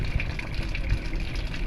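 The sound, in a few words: water flowing out of an alkaline purifier water filter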